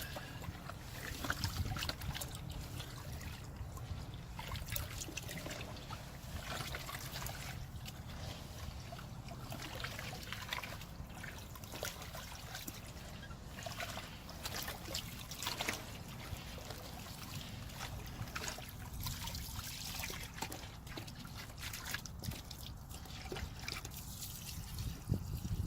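Water being stirred in a container while rinsing and cleaning it for use in an outdoor cichlid pond, a steady sloshing and trickling wash of liquid that continues throughout, close up and with no talk.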